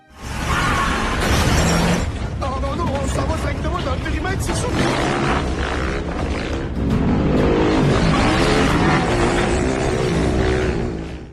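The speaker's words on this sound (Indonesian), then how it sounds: "kedua ilmuwan itu mendengar suara mobil yang dikendarai oleh Colossa" A car engine roars loudly in an action film scene, with revving, passing motion and crashing, smashing noises under dramatic music and voices throughout.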